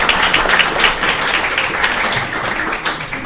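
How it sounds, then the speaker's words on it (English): Audience applause in a room at a museum exhibition talk, dense steady clapping from many hands, loud and sustained without speech. "You can applaud for him"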